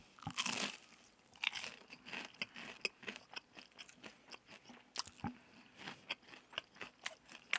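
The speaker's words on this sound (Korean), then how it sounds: "치킨 그냥 바삭한 친구거든요" Crispy fried chicken with a bumpy, spicy nacho-flavoured coating is bitten and chewed up close, giving loud, sharp crunches in a steady, irregular rhythm with no talking.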